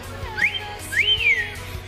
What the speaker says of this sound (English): Here's what a whistle sounds like.